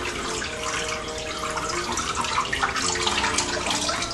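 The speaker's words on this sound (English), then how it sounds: "tilt the colander to a side, yeah, so all the water comes out." Water from cooked lasagna pasta drains steadily out of a tilted colander in a home kitchen, a continuous close splashing rush with no talk.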